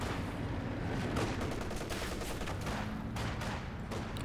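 Machine gun fire in the Company of Heroes 2 war game: sustained bursts of automatic gunfire mixed with other weapons and explosions, dense and loud throughout with no voice over it.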